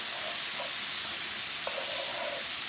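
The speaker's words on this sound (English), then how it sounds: "I have dropped the onions into the pan." Onions with a heavy mix of cumin, sage and oregano, added to a pan with bitter melon for vegan chili, give off a steady, close, hissing sizzle with faint pops and stirring, and nobody speaks.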